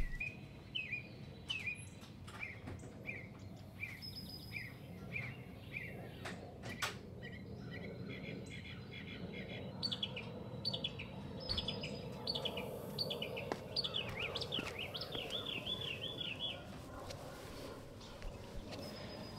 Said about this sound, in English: Enjoy the bird sounds.